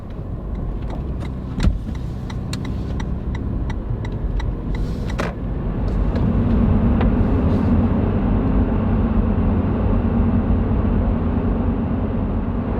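A truck drives along a road with a steady, close low rumble of engine and tires, swelling louder midway, while faint sharp ticks and taps sound over the droning motion.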